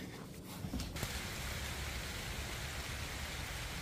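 Steady rain falls while camping in a pine forest, a dense continuous hiss with a few brief knocks near the start and no voices.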